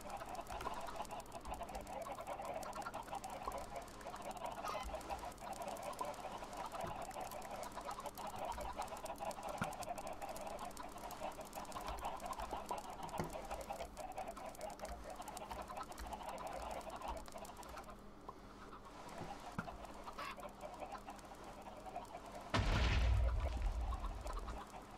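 Chickens cluck steadily over a dense hum of ambient noise inside a chicken farm in a Minecraft-style game, with a brief louder burst near the end.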